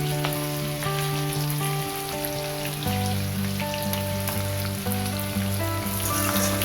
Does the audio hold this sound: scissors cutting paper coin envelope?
no